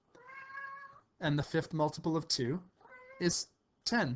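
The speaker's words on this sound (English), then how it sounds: "I apologize for my cat." A house cat meows loudly and close by in a home, with long drawn-out cries before and between a person's speech explaining maths.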